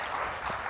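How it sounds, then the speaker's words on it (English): Audience applause welcoming a government minister for environment, climate change and forestry to the stage at a space economy conference session, a dense steady wash of many hands clapping throughout. "Let's give her a round of applause, massive round of applause."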